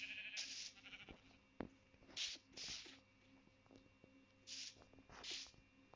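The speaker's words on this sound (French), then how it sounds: "J'ai pas envie de perdre des moutons, moi." Sheep in the Minecraft video game bleat several times, short nasal game bleats spaced a second or two apart over a faint background hum, with no talk.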